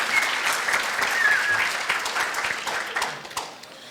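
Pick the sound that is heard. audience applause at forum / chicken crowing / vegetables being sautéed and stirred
audience applause at forum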